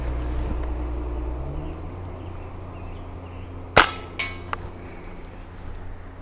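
Umarex Cowboy Legend lever action BB rifle fires a sharp shot, followed by a couple of fainter metallic pings or clanks as the round strikes, set against a quiet outdoor background with birds chirping.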